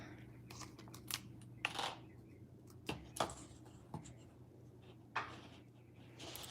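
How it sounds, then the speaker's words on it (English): Jewelry beading wire is cut with small snips at a workbench. Several sharp, faint clicks and snips come at irregular intervals over a quiet room background, with no talking. "So let's cut a little wire."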